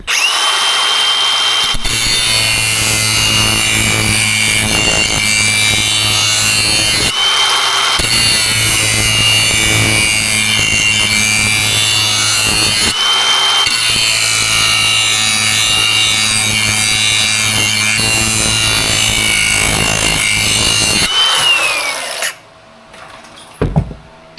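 Discbine mower blades being sharpened with a power tool, a loud, continuous grinding whine with harsh high rasping that runs in long passes broken by short pauses, then stops near the end.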